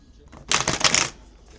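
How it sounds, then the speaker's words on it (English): A deck of tarot cards shuffled by hand: one close, crisp riffling burst lasting about half a second, loud against a quiet background. "Let me shuffle a little bit better"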